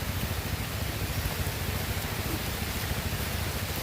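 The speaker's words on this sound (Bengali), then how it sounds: "আর কি পরিমাণ বৃষ্টি হইতেছে" Heavy rain pours down in a jungle setting, a dense, steady wash of hiss with no breaks, loud and close throughout.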